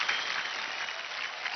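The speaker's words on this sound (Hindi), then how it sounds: "जोरदार तालियां एक बार फिर से अंजलि के।" A studio audience at an Indian television talent show breaks into a short burst of clapping, a dense, even patter lasting just over a second.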